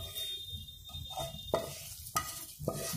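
Tempering spices sizzle and crackle in hot oil for potato sambar, a steady close frying hiss with several sharp pops and a spoon stirring against the pan.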